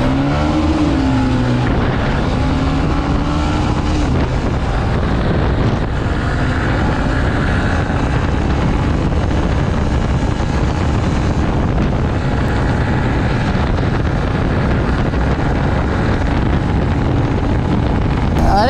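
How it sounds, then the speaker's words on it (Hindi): TVS Raider 125 and Honda SP 125 motorcycles in a top-end race, their engines droning loud and continuous close to the microphone, pitch rising through the gears under heavy wind buffeting, with no break throughout. "और ये मैंने लॉन्च कर दिया है, और अपने अंकित भाई पीछे ही लगे हुए हैं।"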